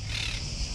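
Wild parrots in Zappeion Gardens, Athens, giving harsh, squawking calls from the trees, a steady overlapping chatter against outdoor background noise with no talking.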